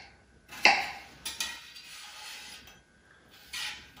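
Garlic being chopped with a knife for a simple tomato sauce, giving a few sharp, close knife strikes on a cutting board separated by quieter pauses.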